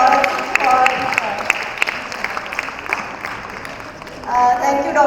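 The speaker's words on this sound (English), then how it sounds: "Big round of applause for her." Applause from an audience at an event, a wash of clapping hands that fades briefly and swells again, with voices mixed in.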